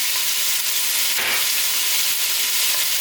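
An onion fries in a pot with salted pigtail fat for a Caribbean string bean dish, a steady loud sizzle up close with a brief stir partway through and no voices.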